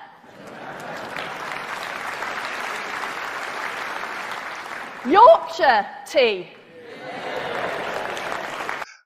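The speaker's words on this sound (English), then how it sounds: "I love the way she stops and waits for the applause" An audience applauds during a speech on post-Brexit trade, with steady clapping that stops briefly while a voice speaks, then resumes at a similar level.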